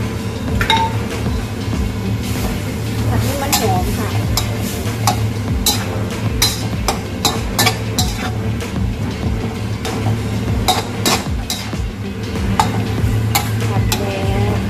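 Coconut cream being stir-fried in a pan for a Thai bamboo shoot dish, with frequent clinks and scrapes of a utensil against the pan over a low sizzle, continuous and close.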